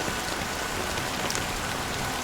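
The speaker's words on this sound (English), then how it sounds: "But it's still raining." Steady rain pours in the dreamscape city of Penacony in Honkai: Star Rail, a dense, even hiss of drops on surfaces with no voices, unbroken and close throughout.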